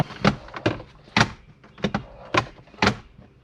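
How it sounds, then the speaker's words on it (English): Car interior of a 2013-2018 Nissan Altima with the glove box repeatedly opened and shut, six distinct close clunks and latch knocks spaced about half a second apart, with no talk. "make sure that your glove box opens and closes like it should"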